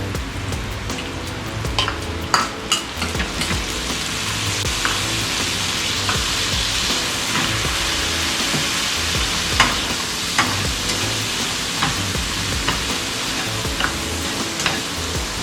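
Corned beef sizzles with spices in a pan for fried rice, a loud, steady frying hiss with occasional scrapes and pops of stirring close by, no voices.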